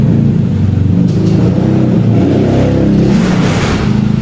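A motorcycle engine starting, then a loud, steady, close idle rumble that continues without a break and has no speech over it.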